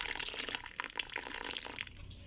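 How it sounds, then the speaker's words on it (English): Water poured onto spiny black olive bonsai saplings in their soil, a soft continuous splashing and trickling spray, quiet and close with no talk. "water the spiny black olives"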